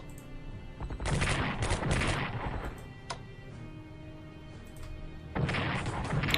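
Bombing attack in the World War II strategy game Strategic Command: World at War, heard as loud rolling bursts of blasts and crackling impacts in two clusters, with a quieter stretch between them.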